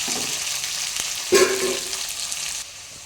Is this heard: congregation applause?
no